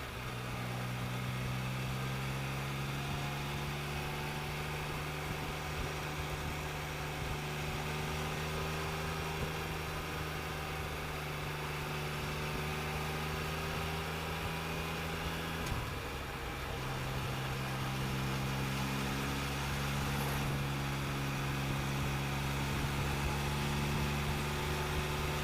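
A vehicle's engine pulls steadily up a hill in 5th gear, a constant mid-pitched drone with a brief dip in pitch partway through as it eases off, then resumes, heard from close by with no talk.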